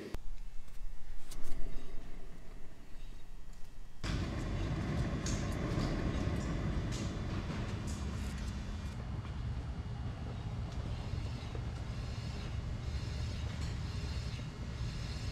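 A worn rear right wheel bearing on a 2014 Subaru Forester growls as a steady, dense rumble that holds unbroken and fairly loud for the whole stretch, with no voices over it.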